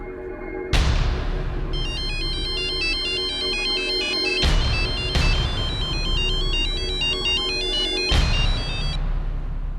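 A mobile phone rings with an incoming call, a bright electronic ringtone repeating in bursts over a steady background hum, loud and near, with no voices.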